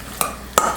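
Two quick utensil knocks against a bowl while chicken salad with mayo and lemon is mixed, each a brief bright clink with a short ring, close and isolated.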